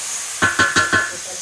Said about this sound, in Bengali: এখন এই হালকা তেল দিয়ে ঢাকা দিয়ে দিয়ে একটু ভাজতে হবে